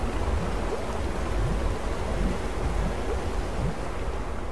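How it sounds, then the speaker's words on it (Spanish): Water rushing and churning steadily as a pool drains in the Kitezh baths of Rise of the Tomb Raider, a continuous broad wash with low rumble and no pauses. "Vamos a dejar que se vacíe completamente de agua."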